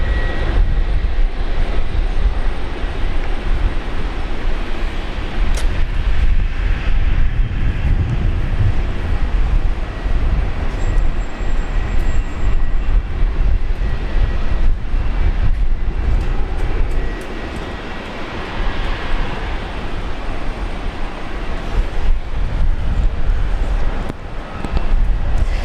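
Velocity 600, a fixed-wing airliner just in from Mackay, rumbles steadily at Brisbane Airport, a loud continuous engine roar with broadband wind-like noise throughout and no voices.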